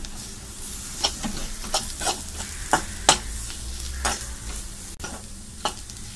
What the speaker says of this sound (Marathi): लाल मसाला, कोथिंबीर चांगलं मिक्स करूया।